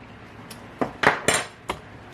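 A fork clinks sharply against a bowl of Israeli salad, about four distinct metallic taps spaced across a couple of seconds, close and clear.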